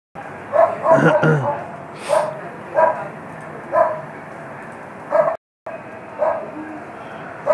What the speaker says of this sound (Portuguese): Cachorrinho chato da porra.